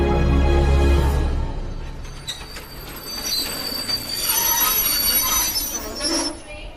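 Train running on rails, wheels squealing with a rumbling low roar at the start, then a continuing rattle and screech that fades and swells, loud and close with no voices.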